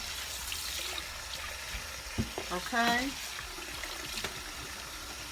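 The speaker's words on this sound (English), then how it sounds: "we're gonna run cold water on them. Rinsing some of that salt off." Cold tap water runs over salted cucumbers being rinsed for bread and butter pickles, a steady splashing hiss with a few clatters and a brief spoken word.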